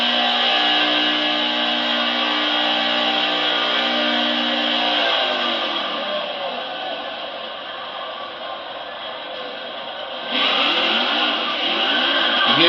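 Racing video game truck engine on a final lap at Phoenix, a loud buzzy whine that holds steady, eases off in the middle, then surges again as the truck accelerates, alone without talk.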